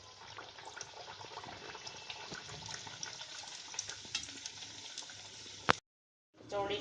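Urad dal kachori deep-frying in hot oil gives a dense, steady sizzle with crackly pops close by. It cuts off abruptly near the end, then briefly resumes.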